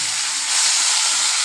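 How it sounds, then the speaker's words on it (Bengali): Potato pieces fry in hot oil in a wok with cumin seeds, a steady close sizzle that swells slightly louder midway and holds without speech. "দেখো সামান্য নুন দিয়ে আলুটা ভাজছি"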